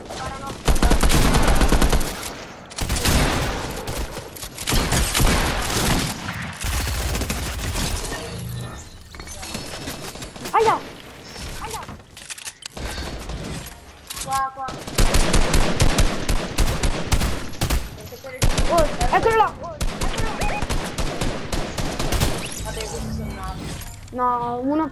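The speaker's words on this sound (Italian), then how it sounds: "Sparano." Rapid bursts of automatic gunfire and sharp shots from the video game Fortnite crack repeatedly, loud and close, with glass-like shattering and occasional voices between volleys.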